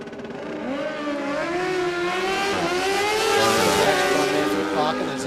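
Drag racing motorcycles, a Suzuki Hayabusa and a Suzuki GSX-R, roar down the strip at Willowbank Raceway in Queensland, with a loud, sustained, rising engine note that climbs steadily through the gears and is heard alone.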